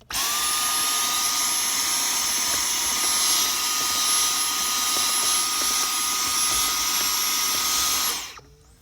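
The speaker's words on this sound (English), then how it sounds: "I have my handy dandy Dyson vacuum cleaner with the little pointy tip on it" A Dyson vacuum cleaner with a pointed nozzle, cleaning leaves from a 2003 Honda Pilot's cabin air filter housing, runs continuously with a high-pitched motor whine and airy rush, holding steady for several seconds before switching off.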